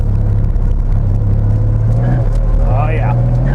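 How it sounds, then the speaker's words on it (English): An early Porsche 911 hot rod working a skid pad, its engine giving a loud, close, deep rumble with a brief rising whine near the end and a voice faintly underneath. "Want to try the skid pad? Early 911 skid pad."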